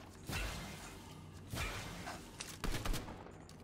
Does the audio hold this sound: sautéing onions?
no